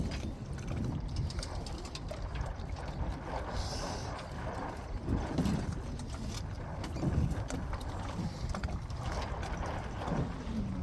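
A sailing boat rocks on the water at the Welsh Harp reservoir, with soft lapping, knocking and creaking. The sounds are low and faint, and a bird coos in the background.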